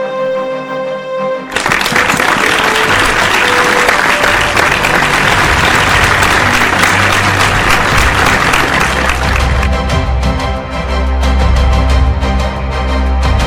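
A large awards-ceremony audience applauds an award winner at a science conference, loud dense clapping that starts abruptly and holds steady for about twelve seconds with a faint musical tone underneath.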